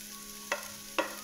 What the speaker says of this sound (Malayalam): നമുക്ക് അതിലേക്ക് അരിഞ്ഞ് വെച്ചേക്കുന്ന കാബേജ് ഇട്ട് കൊടുക്കാം.